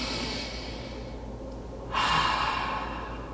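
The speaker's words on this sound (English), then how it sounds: "One more breath." A single slow, deep calming breath, a long hushed inhale followed by a louder, breathy exhale, heard up close with no talking.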